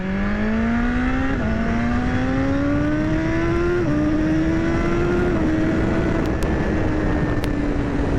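A motorcycle engine accelerates hard past 8000 rpm, its pitch climbing steadily through several gear shifts, loud and close with constant wind roar.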